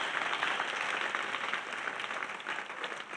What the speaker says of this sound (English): Acclamez, acclamez. Please clap.